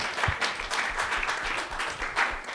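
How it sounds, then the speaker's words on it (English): Audience applause at a talk about covering the Israel-Gaza war, a dense steady burst of many hands clapping close by, loud and sustained throughout. "always let the applause ring if you feel it"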